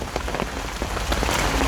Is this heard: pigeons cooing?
no